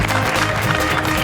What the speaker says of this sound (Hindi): आपकी भरपूर तालियों में बुलाना चाहूंगा द वन एंड ओनली